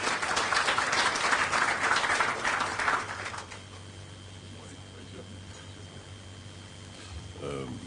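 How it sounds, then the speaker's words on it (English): A burst of audience applause, dense and steady for about three seconds, then it stops abruptly and leaves a quiet room with a low hum. "Please give him a warm round of applause."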